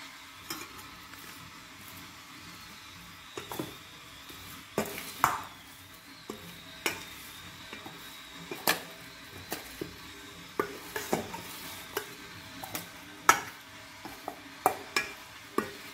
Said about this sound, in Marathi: हा बघा ही हरभऱ्याची डाळ भाजायला लागले.